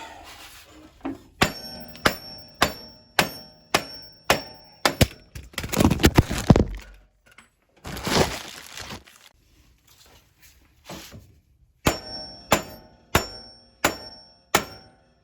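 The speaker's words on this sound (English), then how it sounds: "let's see if we can give her a few more whacks" A hammer whacks a driving tool seating the rear axle seal on a John Deere 1025R tractor, landing steady rhythmic metallic blows in two runs of about a dozen strikes, with a scraping and clattering pause between them.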